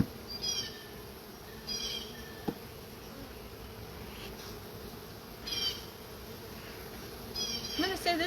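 Honey bees buzz in a steady, low drone around an open hive, with a few louder passes as individual insects fly near.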